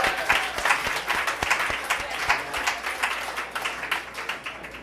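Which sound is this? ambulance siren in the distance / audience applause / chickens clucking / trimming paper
audience applause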